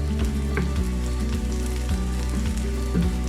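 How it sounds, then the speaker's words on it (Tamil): Sliced onions and two green chillies fry in a pan, giving a steady, dense sizzle that stays even and fairly loud throughout, with no voices. "இதில் ஒரு 2 பச்சை மிளகாய் போட்டிருப்பேன்"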